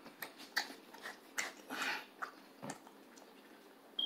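Someone bites into and chews a crunchy battered corn dog with mustard, close and quiet, with a series of irregular crisp crunches and soft wet mastication noises and no talking.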